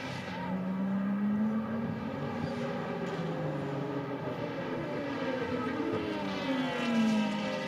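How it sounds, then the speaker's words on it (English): A race car at the FIA WEC 6 Hours of São Paulo brakes and downshifts into second gear for the Senna S. The engine note falls and rises in a sweeping whine, heard at a distance and sustained throughout. "Probably just hear the flywheel spinning up there as he brakes down into 2nd gear for the Senna S's."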